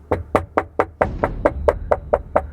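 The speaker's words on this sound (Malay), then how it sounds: "Ketukan masih ketara." A door is rapped by knuckles in a steady series of about eleven close, crisp knocks at an even quick pace, with no voices over them.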